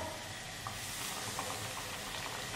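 Fish pieces for chicharrones de pescado frying in hot oil: a soft, steady sizzle with faint bubbling, fairly quiet and continuous.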